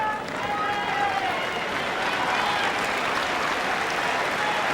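Applause from the crowd at a 1999 Wimbledon quarter-final between Steffi Graf and Venus Williams, a dense, steady wash of clapping that fills the whole stretch at an even level, with a faint commentator voice underneath.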